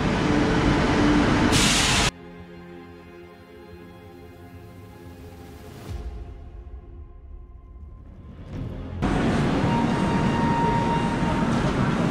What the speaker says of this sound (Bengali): এই চলে আসছে আমাদের ট্রেন 12261 হাওড়া মুম্বাই দুরন্ত।